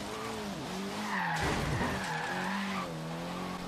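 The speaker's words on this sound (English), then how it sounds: "That was a nice little drift." A Ford Focus RS drifting in the racing game Forza Horizon 3, engine note rising and falling under a loud, sustained tire squeal that peaks midway through the slide, close and continuous with no voices.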